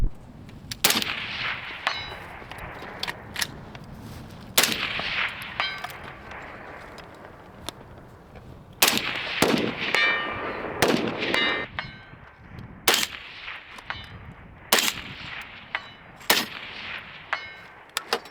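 Rifle fire from LPR-style rifles, including a Ridgeline RD-15: about a dozen loud, sharp shots at irregular intervals, each ringing out with a brief echoing tail between quiet gaps.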